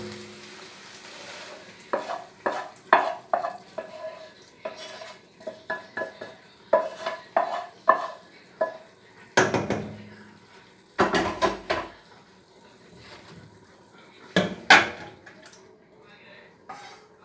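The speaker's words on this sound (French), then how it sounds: "Il n'y a plus qu'à mélanger" Courgettes, tomatoes and lardons are stirred together in a pan, with a busy run of utensil scrapes and clatters against the metal over a light sizzle, close and fairly loud, with no talking.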